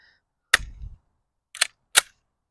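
Three sharp pistol shots from a PSA Rock chambered in 5.7x28 with a 4.7-inch barrel, fired at an outdoor range: one crack with a short low-end rumble, then a second and a third crack close together about a second later.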